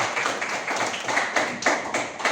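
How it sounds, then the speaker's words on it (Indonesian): An audience claps at an Indonesian classroom or seminar session on artificial intelligence, a steady patter of many hands with a few louder bursts, fairly close, without speech. "Tepuk tangan dong buat Alika."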